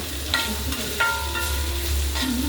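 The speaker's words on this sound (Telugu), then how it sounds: "బెండకాయ ఫ్రై ఇలాగ సింపుల్గా వేగిపోతుంది" Okra (bhindi) frying in a generous amount of oil, a steady close sizzle with soft stirring scrapes and a few brief spatula clinks, no voices.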